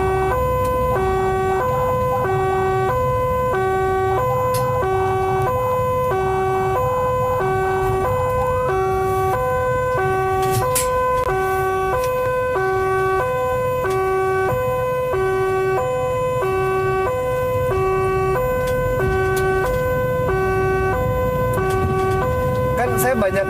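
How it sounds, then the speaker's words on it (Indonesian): A two-tone ambulance siren wails steadily and loudly from inside the moving ambulance during a pandemic humanitarian run, with road rumble underneath throughout. "Ini gini pemirsa rasanya naik ambulans."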